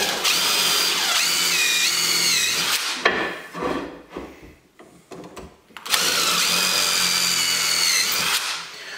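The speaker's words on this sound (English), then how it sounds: "So what I'm doing is just countersinking the screw hole." A power drill whirs steadily, countersinking a screw hole in wood for kitchen cabinets, pauses with some scraping and handling noises, then revs up again in a second sustained burst close by.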